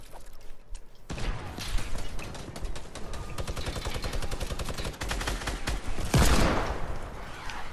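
Rapid, dense bursts of minigun fire in a multiplayer shooter game, loud and sustained with brief breaks, and a heavier blast near the end.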